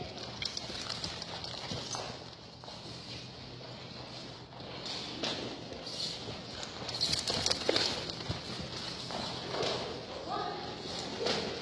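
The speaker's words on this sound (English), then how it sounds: "It took me quite a bit of effort to get her to lope there." A horse loping on a longe line during reining groundwork training, its hooves drumming in a steady rhythmic clip-clop at moderate distance, with a few scattered voice sounds from the handler.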